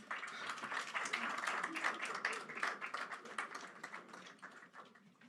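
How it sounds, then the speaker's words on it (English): A crowd applauds at the close of a speech at the Accra Reset event, a faint, dense patter of clapping that swells and then gradually thins out. "One more round of applause."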